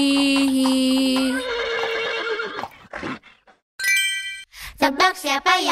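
Horse neighing in a children's farm animal song, a sung imitation of a whinny with bright, wavering pitch over music, followed by more short voiced whinnies and a brief chime.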